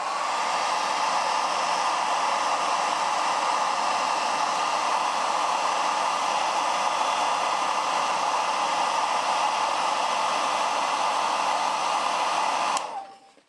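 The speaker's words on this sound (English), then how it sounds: "Roman uses a blow dryer to dry his paints while he's painting" Blow dryer used to dry paint on a miniature model, a loud steady whoosh of air running continuously and close, then cutting off abruptly at the end.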